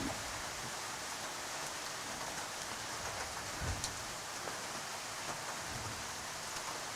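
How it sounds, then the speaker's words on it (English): Rain falls steadily on an outdoor croquet match, a constant soft hiss with occasional faint patters and low thumps, with no voices. "Rain coming down a bit harder now."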